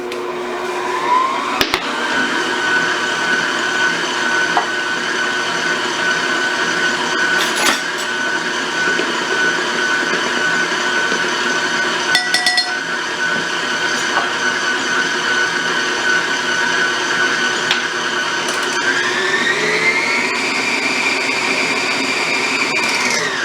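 Electric mixer whirring steadily through cookie dough with vanilla for over twenty seconds, a loud continuous motor whine with occasional clicks and bumps against the bowl, the pitch rising slightly toward the end.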